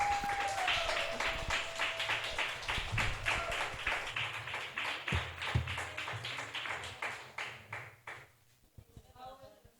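A small audience claps in thanks for a guest named Annie. Separate claps come through in a loose rhythm that thins out toward the end, while a voice speaks briefly underneath.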